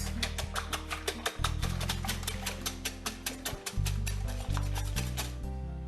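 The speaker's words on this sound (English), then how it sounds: "Whisk the eggs." Eggs being whisked in a bowl give a steady, fast rhythmic clatter of a whisk scraping against the bowl, close and continuous with no talking.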